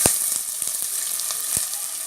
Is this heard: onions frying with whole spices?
yes